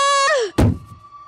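Banging on a door during a frantic plea to be let in: a single heavy thump lands after a long sustained shout, followed by a fading rumble and a lingering tone.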